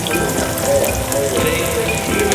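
Garlic hitting hot oil in a cooking pot used in place of a cataplana, a dense steady sizzle throughout with no talk over it.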